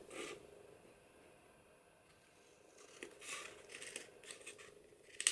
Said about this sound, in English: now I'm going to trim this top section here off